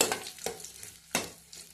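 Dried red chilies and seeds hit hot oil for a dal tempering, giving a steady close sizzle with a few sharp stirring clinks and scrapes in the pan.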